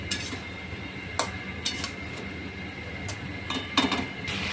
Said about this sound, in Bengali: মশলা ধোয়া জলটা দিয়ে একটু নাড়িয়ে চাড়িয়ে নেব